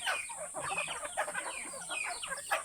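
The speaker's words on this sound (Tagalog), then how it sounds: "So ito lahat ay mga native na manok" Several native chickens cluck busily nearby, overlapping soft clucks and chirps, with a steady high hiss in the background.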